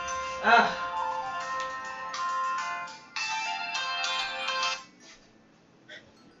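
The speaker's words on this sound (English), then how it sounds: "my phone's ringing." An electronic ringtone plays a bright repeating melody for several seconds, then stops; a voice speaks briefly over the start.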